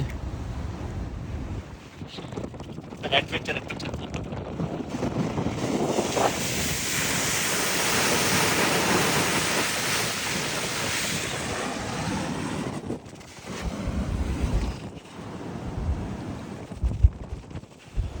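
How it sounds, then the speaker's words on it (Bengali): Sea waves roar onto the shore in a broad, loud wash that builds and recedes, with strong wind buffeting the microphone throughout. "চলুন আপনাদেরকে সমুদ্রের গর্জনটা শোনাই"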